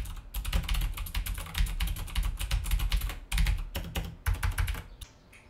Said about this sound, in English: Now for the Razer keyboard, you will hear clicking, you will hear the actual key being registered.